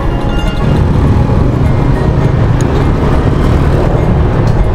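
Busy road traffic around a monument in an Indonesian town streams past as a dense, loud, continuous roar of engines and tyres, close and unbroken for several seconds, with no voices.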